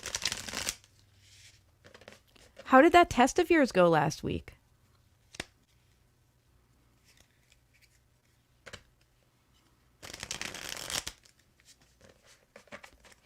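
Tarot cards being shuffled by hand in quick riffling bursts, one near the start and another later, with a person talking between them.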